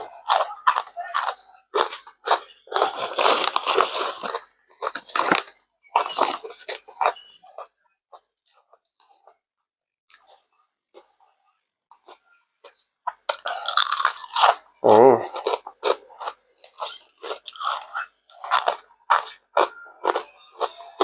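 Close, loud chewing of a crispy baked jackfruit snack, with dense crackling crunch bursts in two long runs separated by a quiet pause, and no talking.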